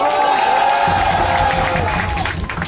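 Crowd at a political campaign rally for candidate Cabral Libii in Mokolo, Mayo-Tsanaga, cheering and clapping for the president, a dense roar of voices and applause filling the space, with shouting mixed in.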